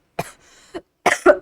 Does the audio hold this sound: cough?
yes